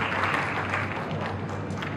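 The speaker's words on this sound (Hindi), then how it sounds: "सर के लिए एक बार जोरदार तालियां बजाइए" A lecture audience claps after a talk on setting up an Ayurvedic pharmacy, a brief dense burst of applause at moderate volume with faint room hum underneath.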